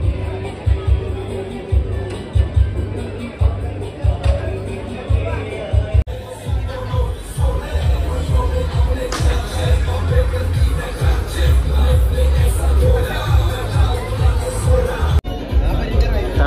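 A busy crowd of waiting diners at Nakhwa, a seafood restaurant near Panvel, fills the space with dense babble, thumps and shuffling, while a birthday celebration goes on nearby and voices overlap close by.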